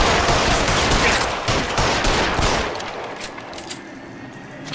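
Dense gunfire in a Grand Theft Auto video game, loud rapid bursts of shots and automatic fire packed together, easing slightly toward the end, with no talk.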